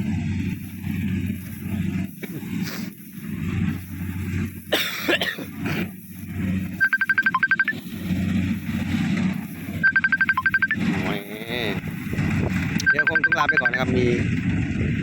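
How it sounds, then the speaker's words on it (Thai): A phone rings for an incoming call in three repeated bursts of chiming tones, heard over the steady engine drone of a Kubota combine harvester cutting lodged rice in a paddy field. "สายเข้านะครับ"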